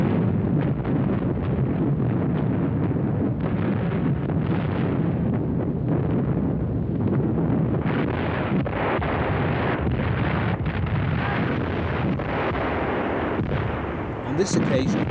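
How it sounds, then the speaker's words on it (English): Dense German light and heavy flak, 20mm and 88mm guns, firing in action around a wartime port on the Kuban side, a continuous loud roar of overlapping blasts and rapid reports without a break, thick and booming throughout. "the Germans would ring the port on the Kuban side with extremely dense, light and heavy flak defences, and it is these that are seen in action here."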